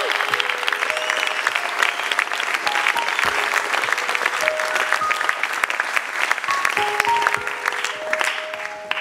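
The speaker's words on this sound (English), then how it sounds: "Can I just get a round of applause for the casting crew?" A screening audience applauds the casting crew at a film Q&A, steady, dense clapping from a full room lasting several seconds, with whoops and scattered voices mixed in.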